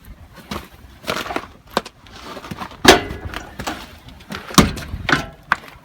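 Repeated wooden thunks and scraping knocks as someone works at the tight, oversized-seal door of an outdoor wood boiler, irregular and close, with a few sharper clacks.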